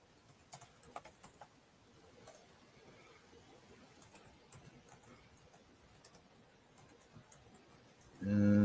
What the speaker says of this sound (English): Let me type this in right quick.